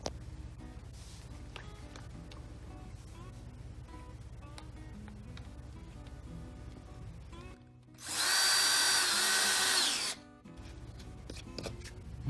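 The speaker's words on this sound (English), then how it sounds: "So I'm gonna screw the hinge into the cabinet door." A power drill drives a screw through a hinge into a kitchen cabinet door. A low, rubbing hum of handling runs underneath, then a loud, close two-second burst of whirring drill before it stops.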